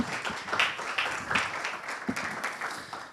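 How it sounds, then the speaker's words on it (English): Audience applause at a cybersecurity meetup, a steady wash of many hands clapping for about three seconds with no speech over it. "Another applause, please, to Märt."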